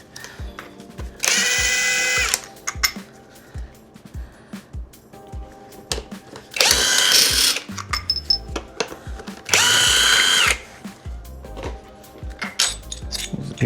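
Power impact tool fitted with heavy impact sockets loosening engine fasteners: three loud, close whirring-hammering bursts of about a second each, separated by light metallic clinks and handling noises, with no talking.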